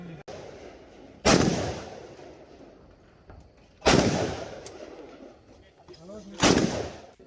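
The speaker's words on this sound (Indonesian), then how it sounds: "Baik, menembak." Three loud pistol-range gunshots ring out at a police-hosted shooting competition for journalists in Simeulue, each a sharp crack with a trailing echo a few seconds apart, over faint background chatter.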